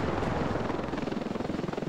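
Helicopter in the Ravenfield video game, its rotor thumping loud and steady at close range with a rapid regular chop and no talk.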